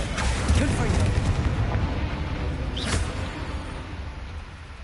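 A Confringo spell goes off in Hogwarts Legacy as a loud, sustained burst with a sharp crackling flash about midway, over a dense, rumbling wash of game noise.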